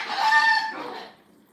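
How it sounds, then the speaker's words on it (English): Chickens clucking close by, a dense burst of bird calls that fades over about a second and a half, with no talking. "I'll be doing it outside so the birds won't be quite so noisy."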